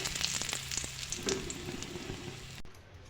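Cumin seeds and dried red chillies hit hot oil left from frying potatoes and sizzle steadily with crisp little pops. The crackle holds for a few seconds, then cuts off abruptly into near silence.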